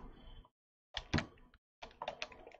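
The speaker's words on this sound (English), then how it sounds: "That loud sound you hear is me bashing my head against my keyboard." A head bashes against a computer keyboard during a live illustration stream, giving a few loud clattering thumps and rattling key strikes in separate bursts with short silences between.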